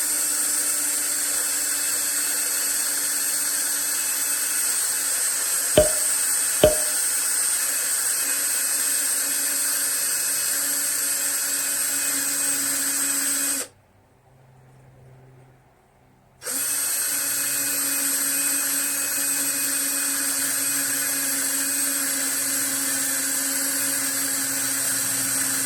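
A steady, high-pitched whine of a power tool runs continuously, with two sharp clicks early on and a brief cutout in the middle.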